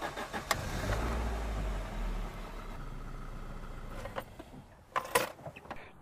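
A car engine cranks and starts, idles for a few seconds, then is switched off. The start is close and low-pitched, followed by quieter idling and a few clicks and knocks.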